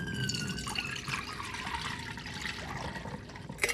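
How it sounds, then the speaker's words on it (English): Material samples plunged into chlorinated pool-style water give a steady wet trickling and sloshing with scattered drips, fairly quiet and without speech. "They submerge the samples in chlorine to see if they can handle a few lengths in the pool."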